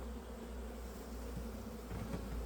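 Honeybees buzz steadily at a weak hive being inspected, a dense continuous drone close by with no voices.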